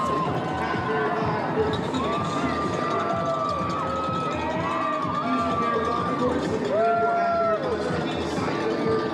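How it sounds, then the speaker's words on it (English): Crowd of spectators at mile 4 of the Houston Half Marathon on West Gray, cheering runners past amid music and shouting; a steady, dense roar of voices with whoops rising and falling, talk mixed in throughout. "People are cheering."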